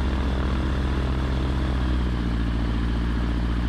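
Seaplane engine running steadily as the floatplane taxis across water toward a wide ramp, a loud, close, continuous low propeller drone with a throbbing pulse and no talk.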